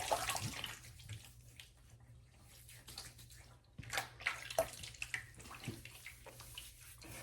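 Running water splashes from a tap as a face is rinsed during a straight razor shave, soft irregular splashing and trickling close by, fairly quiet.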